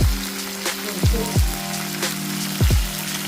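Whole green chillies frying in hot oil for a chilli pickle give a steady, close sizzle with a few soft low thumps, and nobody speaks.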